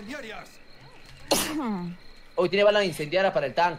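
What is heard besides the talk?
person sneezing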